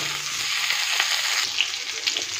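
Eggplant pieces hit hot oil in a pan for a cabbage and spinach chorchori, giving a loud, steady close sizzle with a couple of faint stirring scrapes, no voices.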